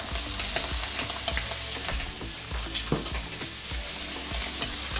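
Shrimp sear in a hot pan for fried rice, a loud, close, continuous sizzle with repeated spatula scrapes and stirring knocks throughout, no talk.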